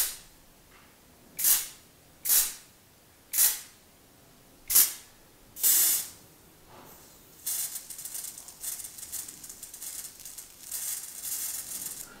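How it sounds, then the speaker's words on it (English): Five sharp, short hissing spray bursts at regular intervals over boiling water, followed by a longer, continuous steamy hiss and spray that rises and falls near the end, close and fairly loud. "Noticed if you squirt this very gently, it kind of mixes in with the steam"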